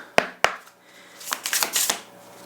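Two sharp taps, then a tarot deck riffled and shuffled in quick crackling bursts, close and clear.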